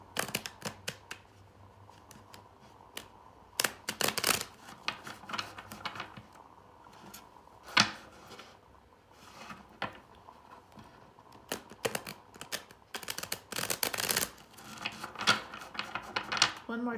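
Tarot cards shuffled by hand in close quarters, giving scattered crisp riffling bursts and soft rubbing slides that come and go in irregular clusters over a quiet room tone.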